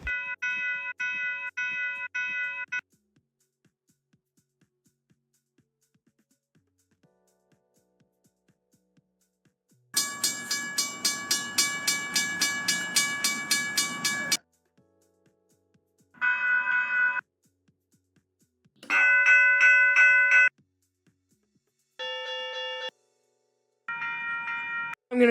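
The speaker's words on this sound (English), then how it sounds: "Different crossing bells, changeable." Railroad crossing bells in a railway simulation game ring in several separate bursts, each a rapid, evenly repeating metallic ding with a different tone, separated by near-silent gaps, loud and alone with no talking.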